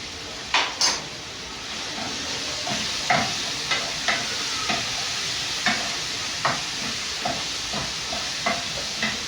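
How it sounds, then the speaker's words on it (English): Tomatoes cooking down into a paste in a pan with two Royco cubes for Kenyan scrambled eggs: a low steady sizzle with repeated short scrapes and taps of a spoon stirring, spaced about every half-second to second, close by. "you allow the tomatoes to cook until they are soft, until they make a very good paste"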